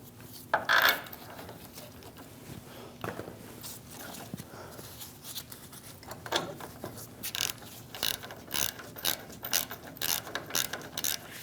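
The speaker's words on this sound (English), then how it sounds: "Snug down the caliper bolts." A ratchet clicks in rhythmic bursts as caliper bolts on a 2001-2006 Chevrolet Silverado 2500 HD are snugged down, with metallic clanks and mechanical rattles nearby and faint background noise.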